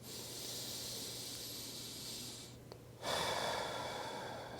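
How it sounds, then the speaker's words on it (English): A single deep breath drawn during guided meditation, a steady airy hiss through the nose that pauses briefly, then swells into a fuller, louder exhale, close and alone with no talking. "and take a deep breath"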